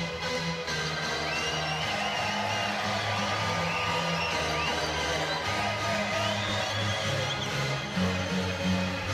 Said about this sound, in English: this crowd are going to be very, very loud in about 15 seconds time